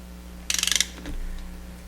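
A ratchet clicks rapidly about eight times while turning bolts on a 115 outboard motor, a short crisp burst close by, followed by a faint mechanical rattle over a low steady hum.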